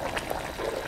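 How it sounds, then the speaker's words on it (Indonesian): Sweet soy sauce pours into meat cooking in a pan for a village-style Javanese layered beef dish, a short liquid bubbling and trickling sound, close and fairly quiet. "Masukkan kecapnya sesuai selera aja ya. Saya masukkan 5 sendok makan."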